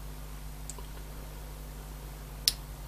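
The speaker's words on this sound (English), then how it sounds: "I can hear it clicking" A relay module driven by an Arduino or ESP board switching between open and closed circuit, two faint, sharp clicks a couple of seconds apart over a low electrical hum.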